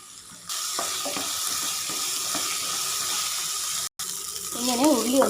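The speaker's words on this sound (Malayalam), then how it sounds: "നന്നായിട്ടൊന്ന് ഉള്ളി വാടി വരുന്നവരെ ഒന്ന് വഴറ്റി കൊടുക്കാം." Shallots sautéing in a pan for a Kerala onion curry, a soft, steady sizzle with faint stirring scrapes, briefly cutting out before a louder rustling resumes near the end.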